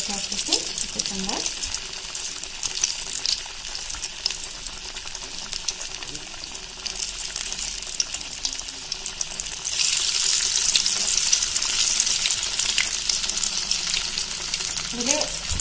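Cassava fritters (kappa vada) fry in hot coconut oil, giving a continuous loud sizzle that crackles steadily and grows a little stronger toward the end.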